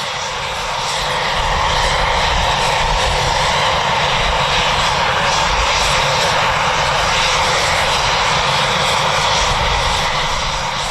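Typhoon fighter jets at RAF Lossiemouth produce a loud, continuous engine roar that swells in the first seconds and then holds, a dense broadband rush with no talk.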